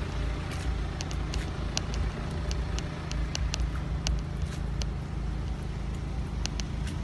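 Vehicles wait in a traffic jam in front of a tunnel in Switzerland, giving a low continuous engine rumble with scattered faint ticks and clicks, moderately quiet and steady throughout.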